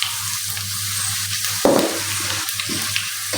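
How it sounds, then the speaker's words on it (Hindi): Cumin tempering for kadhi sizzles in a hot pan as a continuous crackling fry, with a brief louder burst of bubbling partway through. It sounds close, with no talk. "ये देखें जी, हमारा तड़का जो है ना वो तैयार हो चुका है।"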